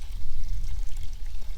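Water pours steadily into a cooking pot holding tomatoes, crumbled beef stock cubes and stock, a continuous low splashing gush with no voices.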